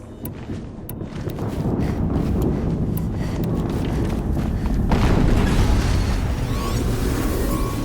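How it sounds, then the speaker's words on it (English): Rumbling, sustained boom from an explosion in the video game Horizon Zero Dawn, a loud low roar that swells and holds for several seconds with wind-like noise throughout. "Another explosion."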